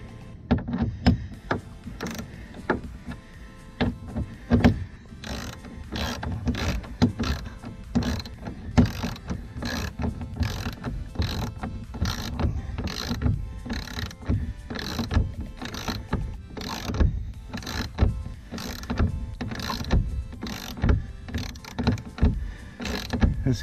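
Repeated ratcheting clicks from an Allen wrench tightening a bolt on a plastic clubhouse climber, a steady run of sharp close clicks and knocks with no talk.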